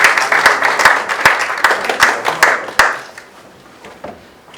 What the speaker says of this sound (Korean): 박수로 수여해 주시기 바랍니다